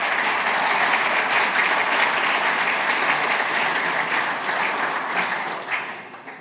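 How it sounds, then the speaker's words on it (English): Sustained applause from a conference audience at the close of a technical talk on F-35 flight testing, steady and dense for several seconds before tapering off near the end. "Round of applause for the technical."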